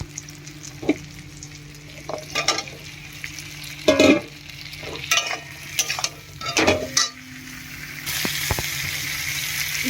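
Potatoes fry in spiced oil with green chillies in a pan, a low sizzle broken by clattering scrapes as a spoon stirs them, closing with a louder steady hiss.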